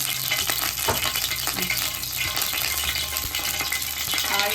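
Cinnamon stick frying in hot oil while palak paneer is being cooked at home, giving a steady, dense sizzle that stays loud and even throughout, with faint clinks and stirring noises over it and no voices.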